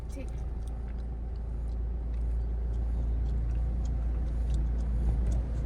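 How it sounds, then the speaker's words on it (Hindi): Car pulling away slowly in first gear during a driving lesson, a steady low engine rumble that stays even and close from inside the cabin, with some faint voice sounds above it. "फर्स्ट गियर में कार को मूव करना है।"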